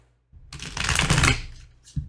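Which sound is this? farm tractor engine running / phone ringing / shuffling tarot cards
shuffling tarot cards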